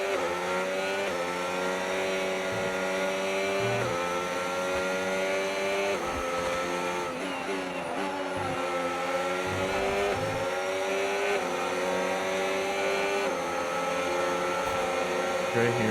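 Formula 1 race car engine in the F1 25 game, a steady high-pitched whine rising and falling as the car drifts and coasts through corners, with repeated brief pitch dips between accelerations, constant and close throughout.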